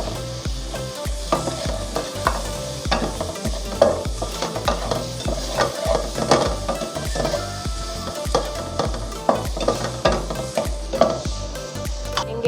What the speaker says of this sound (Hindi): लाल मिर्च पाउडर, हल्दी पाउडर और कुटी लाल मिर्च शामिल करेंगे। इनको मिक्स कर लेंगे अच्छे से।